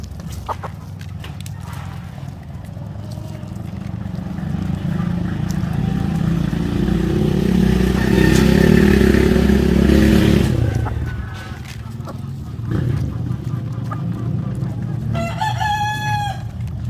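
Farm chickens fed whole corn cluck and squawk in a dense, close flock, with louder agitated calling in the middle and a rooster's crow near the end.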